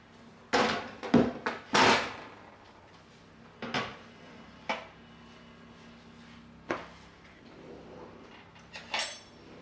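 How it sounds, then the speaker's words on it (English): A butter knife cuts through warm flapjacks in a lined baking pan, giving a series of sharp, close scraping knocks, several clustered early and then spaced out, with no talk. "I'll show you how I cut them with the back of a knife, like a butter knife, so it doesn't damage the pan"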